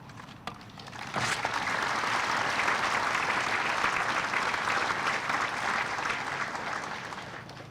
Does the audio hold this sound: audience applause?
yes